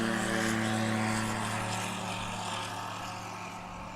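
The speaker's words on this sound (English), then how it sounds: "Levi Nogues spooling up. Tail's slowly coming up, flaps in, stick back, and he is airborne." A STOL aircraft at a swamp STOL competition in Jennings, Louisiana, taking off: a loud, droning propeller engine roar with a steady low hum that slowly fades as it pulls away.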